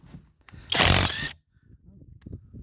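A Stromo AWA25 budget impact wrench tightening runs in one burst of about half a second, loud and close, among quiet handling noises, with no talk.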